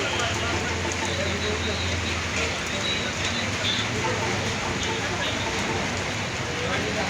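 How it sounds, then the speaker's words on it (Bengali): Light rain falls in a continuous even hiss with faint pattering, a low rumble underneath, lasting throughout without pause, at the Companiganj bus terminal in Cumilla, Bangladesh. "যেভাবে হালকা পাতলা বৃষ্টি হইতেছে"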